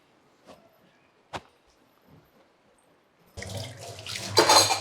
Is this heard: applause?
no